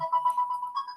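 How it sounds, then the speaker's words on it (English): A mobile phone ringtone sounds during an online video call, a steady electronic tone pulsing in quick beats, clear and alone for about a second. "No, that was my ringtone."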